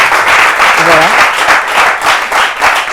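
A studio audience applauds loudly and continuously in a dense wash of clapping, with a voice briefly heard over it.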